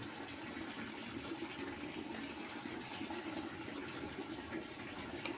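Water flows steadily through a courtyard flooded after a sudden rain, a faint, continuous gushing wash with no breaks or talking.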